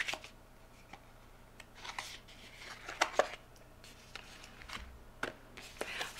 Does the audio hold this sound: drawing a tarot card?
yes